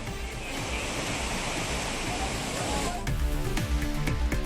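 The Courtallam waterfall roars after heavy rain, a dense, constant rush of falling water that holds steady throughout, joined near the end by faint clatter and low sounds from nearby.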